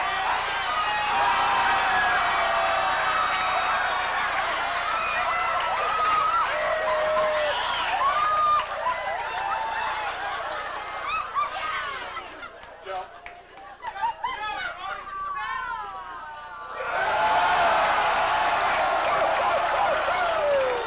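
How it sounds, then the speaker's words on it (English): A crowd at a boat jousting contest cheers and shouts loudly. The noise dips briefly into scattered voices and laughter, then swells again. "You may start your cheering now!"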